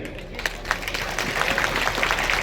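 Applause from a crowd at a Parivartan election rally in Jind, a dense, steady clatter of many hands clapping at close range for a couple of seconds.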